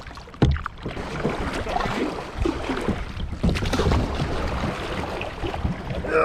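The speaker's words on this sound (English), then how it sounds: "Paddling is rough." Canoe paddling through swamp water while scouting public land, with steady splashing and watery strokes close by, a sharp knock near the start, and a continuous wet rustle throughout.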